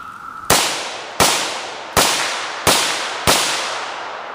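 SKS rifle fired five times outdoors at a steady pace roughly every 0.7 seconds, each sharp, loud crack followed by a short ringing decay, with no talking.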